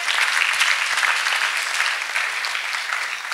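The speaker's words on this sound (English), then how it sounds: "Can we once again clap for Master Jesus?" A church congregation claps together in sustained, dense applause at close range, holding steady throughout with no pause or break.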